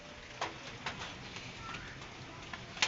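Racing pigeons in a loft give soft, low coos under a quiet background, joined by a few sharp taps and wing or foot knocks scattered through the stretch.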